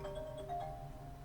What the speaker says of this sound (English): So if they call you, you're going to get the chime and see the call light on the audio control panel